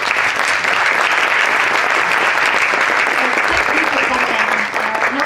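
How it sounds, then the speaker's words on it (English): Sustained, loud applause from an audience thanking a science presenter, dense and even throughout, with faint voices mixed in beneath the clapping. "So please, big applause for Katja."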